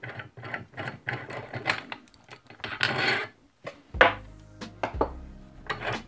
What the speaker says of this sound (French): On desserre la vis noire.